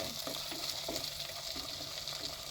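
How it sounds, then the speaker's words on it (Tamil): Chopped onions sautéing in hot oil in a pan for a chicken curry with green cashews, giving a steady close sizzle and frying hiss with faint stirring scrapes throughout. "ரெண்டு வெங்காயம் கட் பண்ணி வச்சுருந்தாங்க அது போட்டுக்கிறேன் நல்லா வதக்கிங்க"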